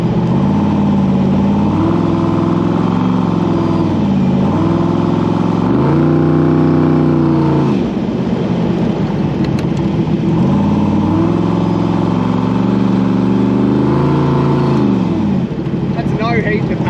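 The roughly 800hp 427SC Cobra engine revs hard on a short drive, a loud, close, continuous roar rising and falling through repeated surges of acceleration and gear changes.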